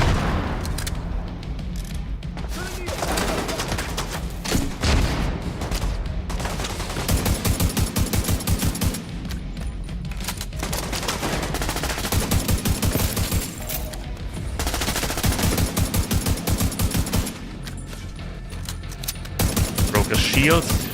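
Grenade launcher blasts and sustained gunfire in The Division 2 video game, dense rapid bursts with booming impacts, loud and near, broken by brief lulls, with a voice talking over the action at times.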